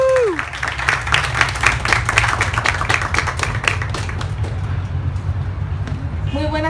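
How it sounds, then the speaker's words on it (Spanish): An audience at a 2016 book fair presentation breaks into sustained, dense applause that holds steady for several seconds, with crowd noise and a few voices underneath. "pido un fuerte aplauso para ir animando a nuestro artista invitado"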